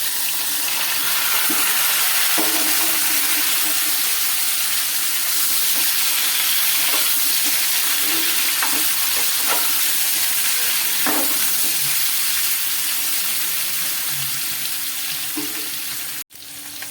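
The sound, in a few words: lightly frying in hot oil for a vegan curry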